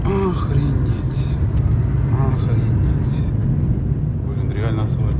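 A car cruises along a smooth asphalt road, its low engine and tyre rumble running steady under people talking inside the cabin.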